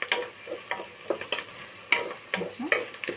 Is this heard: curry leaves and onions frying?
yes